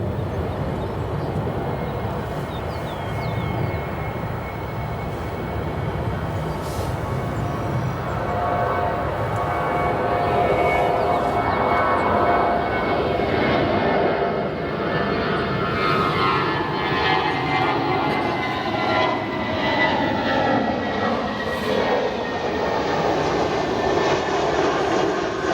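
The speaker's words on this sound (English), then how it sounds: "we have another departure here on runway 28 left, 28 right" A departing airliner roars off a runway at Chicago O'Hare Airport, a broad, steady jet engine rumble that swells and holds, heard from outside with no talk over it.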